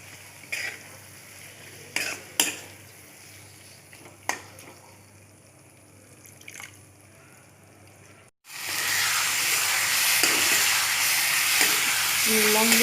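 Water poured into a hot pan of frying papaya and fish-head masala bursts into a loud, steady sizzle and hiss after a few quiet stirring taps and clinks of the pan.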